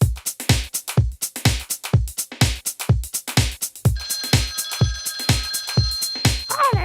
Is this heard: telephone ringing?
yes